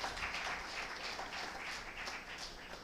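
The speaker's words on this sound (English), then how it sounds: "A round of applause for him." Applause from the audience at an afternoon session of a bar association law week event, a continuous patter of many hands clapping at moderate volume, fairly even from start to finish.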